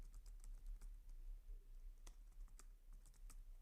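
Someone types data into Microsoft Excel on a computer keyboard, with a series of close, quiet, irregular key clicks and a few sharper taps over a low background hum, and no voices.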